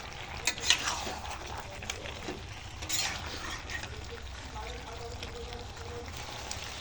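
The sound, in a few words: stir-frying chicken with potatoes (kosha)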